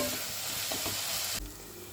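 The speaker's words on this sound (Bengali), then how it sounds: "পেঁয়াজ আদা রসুন কাঁচা লঙ্কা কুচি এটা আমি একটু ভালো করে ভেজে নেব খুব ভালো করে ভাজতে হবে" Chopped onion, ginger, garlic and green chili frying in a pan of oil for a prawn chop, giving a steady close sizzle that drops quieter near the end, with no talking.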